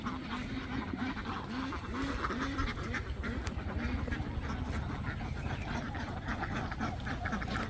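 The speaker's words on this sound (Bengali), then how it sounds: "হাঁসগুলো দেখতে পাচ্ছি অপেক্ষা করছে তাদের ঘরে যাওয়ার জন্যে" A flock of domestic country ducks on a farm beside a fruit orchard quacks steadily and continuously, close by and fairly loud, with overlapping calls throughout.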